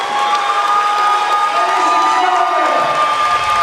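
Crowd at a high school girls basketball game cheering a record three-pointer, a loud, continuous roar of cheers, whoops and shouts that fills the whole stretch, sustained and close.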